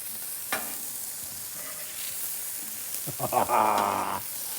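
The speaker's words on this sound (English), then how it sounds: "Frying them in bacon grease." Burgers sizzle quietly in bacon grease on a Blackstone griddle, with a few scraping stirs and a louder burst of frying near the end.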